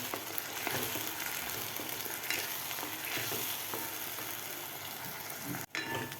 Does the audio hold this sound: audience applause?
no